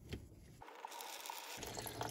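Fuel trickles and drips from the bottom of a Renault Megane 4 fuel filter housing after the drain is undone, a quiet, steady liquid patter heard up close with faint background hiss.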